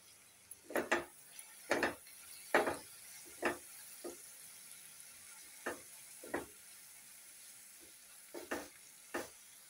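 A spoon stirs dal and spinach with spices in a pan, giving soft scraping strokes at an irregular pace over a faint sizzle, quiet and close with no talking.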